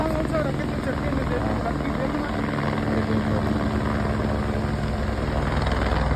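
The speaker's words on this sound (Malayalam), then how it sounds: "ഹെലികോപ്റ്റർ ഇങ്ങനെ എപ്പോഴും വട്ടം ചുറ്റിക്കൊണ്ടിരിക്കുകയാണ്" A helicopter circling overhead at Kedarnath in the Himalayas, its rotor thumps and engine drone filling the air steadily and loudly, with a person talking over the noise.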